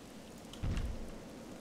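Steady rain hiss in the theme-park game RollerCoaster Tycoon 3, faint and even throughout with a brief louder low rumble near the middle, no voices.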